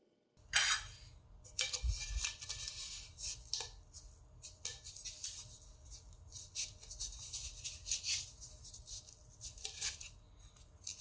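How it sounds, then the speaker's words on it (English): Scissors cut through coiled cardboard strips for a tuna can burner, giving repeated crisp snipping and tearing sounds at close range with no talk. "I'm just going to take a rubber band to kind of hold this thing into a tight coil while I cut a couple of more strips"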